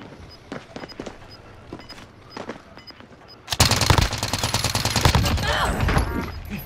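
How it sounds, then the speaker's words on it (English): Video game gunfire, with a few scattered shots and footsteps followed by a loud, sustained automatic burst of rapid shots that fills the rest of the moment. "I'm shooting at these fuckers now."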